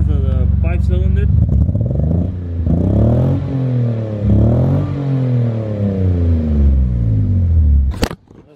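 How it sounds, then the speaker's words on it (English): A Toyota Tacoma pickup with a five-cylinder engine and an HKS aftermarket exhaust revs up and down several times, loud and close, with rising and falling engine tones before the sound cuts off abruptly near the end. "I'm gonna show you guys the HKS exhaust. It might not sound that good because of the 5-cylinder."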